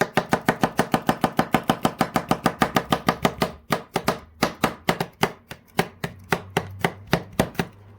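Cucumbers chopped into bite-size pieces with a blunt knife on a board: a fast, steady run of sharp, close knife strikes that slows slightly and spaces out toward the end, with no talking.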